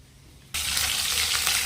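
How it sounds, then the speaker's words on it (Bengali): After a brief quiet moment, loud sizzling suddenly erupts as fish hits hot oil in a pan and keeps frying steadily, close up. "রান্না হচ্ছে, মাছ ভাজা হচ্ছে"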